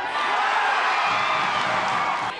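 Football crowd in Mareeba cheering, a dense, loud roar of many voices sustained for a couple of seconds before tapering off.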